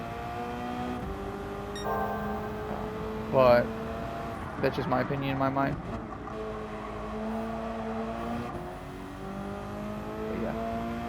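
A Group 3 race car in Gran Turismo 7 accelerates with a steady engine drone and brief rising revs, sitting under someone talking throughout.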